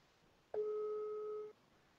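Telephone ringback tone during a repeated call, a single steady electronic beep lasting about a second, clear and alone against quiet background hiss.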